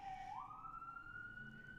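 An emergency vehicle siren passing on a Brooklyn street, a single rising wail that climbs and then holds a steady high tone, fairly faint and distant, with no talking.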